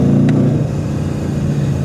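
A 2025 BMW M850 engine revs loudly through its valved exhaust, a deep steady drone that holds close and continuous with a brief lift early on, with no talk over it.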